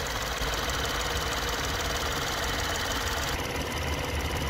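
A Peugeot 3008's 1.2 PureTech three-cylinder engine runs steadily at idle with a low, slightly uneven thrum and a faint vibrating rattle, close and continuous with no voices.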